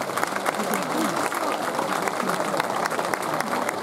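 At a klapa singing festival on the island of Pag, a large audience claps loudly to welcome an a cappella group from Novalja, a close, dense and energetic burst of applause lasting the whole stretch.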